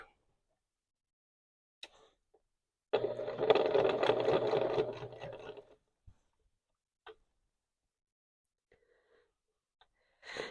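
A home sewing machine stitching quilt binding runs in one short, steady burst of about three seconds, nearby in a quiet room, with a few faint clicks and handling taps before and after.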